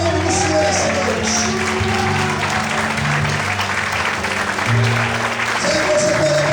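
A church congregation claps together at an evening service, steady loud applause mixed with sustained musical tones and some voices underneath.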